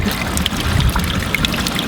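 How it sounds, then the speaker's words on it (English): Water pours steadily into a bottle at St Anne's Well, a public spring in Buxton, making a continuous close trickling splash throughout with no voices. "Oh, this gentleman's filling up his water."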